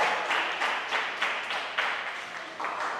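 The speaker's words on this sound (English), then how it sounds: "this is when you clap for me now" A small group of listeners at a school parent-teacher conference claps briefly, a light, sparse patter of hands with a few distinct bursts, fairly close and without talk over it.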